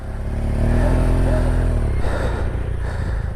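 A motorcycle engine revs hard as the bike is pushed free of deep mud on a rough mountain road to Kashmir, a loud rising drone with clattering that eases off toward the end.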